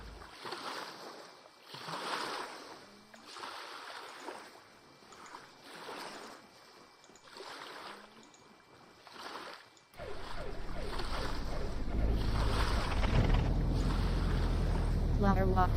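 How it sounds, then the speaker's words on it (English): An aircraft engine starting in the FlightGear flight simulator. A speaking voice comes first, then a sudden steady engine drone rises and holds loud through the last six seconds. "Start the engine."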